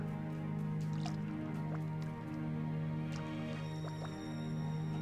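Soft splashy watering sounds in a video game, Dreamlight Valley, with scattered drips and droplets over a steady tonal background hum, gentle and close.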